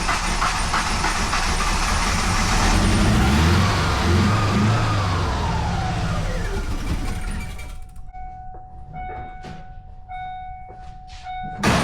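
A Ford Mustang engine, fresh spark plugs fitted and head gasket suspected bad, revs loudly with a rising then falling pitch, then drops away to a quiet cabin where short electronic chimes sound.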